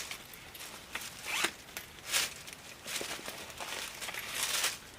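A small zipper pouch pulled open in a few quick rasping bursts, close and clear, with light rustling between pulls and no voices.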